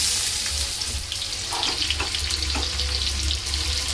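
Onions dropped into very hot oil with curry leaves, a steady loud sizzle and crackle of frying that continues throughout without a break.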